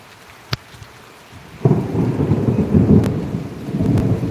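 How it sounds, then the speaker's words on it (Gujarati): A low rumble of thunder rolls in over heavy monsoon rain, preceded by a couple of sharp drops; the downpour hisses steadily throughout. "ગાજે છે હો ભાઈ જોરદાર વરસાદ"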